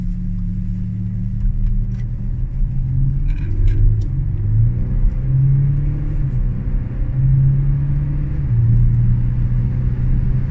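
An Audi SQ7 V6 TDI quattro, a two-tonne diesel SUV with 313 hp and 650 Nm, pulls away with a steady low engine rumble that swells as it accelerates, heard from inside the cabin without talk.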